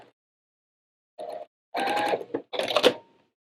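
A sewing machine stitches a pieced quilt block in three short runs, each lasting under a second with brief pauses between, heard up close and alone.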